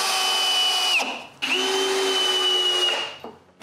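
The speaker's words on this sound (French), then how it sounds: "Maintenant, je peux visser la base en place." A drill drives screws to fix the base of a homemade chainsaw mill, two loud whining runs with a steady pitch, separated by a short gap and ending with a brief final burst.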